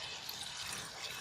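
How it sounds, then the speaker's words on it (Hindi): Water pours steadily from a bowl into a pan of chicken curry masala being cooked, a faint, even splashing wash lasting a moment with no voices. "आधा बाउल पानी को डालूं।"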